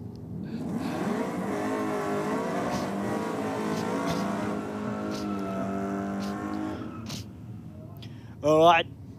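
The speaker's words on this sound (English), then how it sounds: "two tough, old-school, chrome-bumpered Aussie muscle cars down on track at the moment" Two old-school, chrome-bumpered Australian muscle cars, a Torana and a Falcon, rev and drone on a drag strip during an Australia Day themed night, their engines rising and falling under a commentator's running talk.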